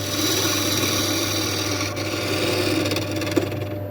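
A 3/8 inch V-profile bowl gouge cuts a camphor laurel snack bowl spinning at about 1200 RPM on a wood lathe, giving a steady, continuous close scraping rasp with a low motor hum beneath.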